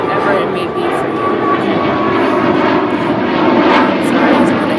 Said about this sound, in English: Sorry, there's another airplane.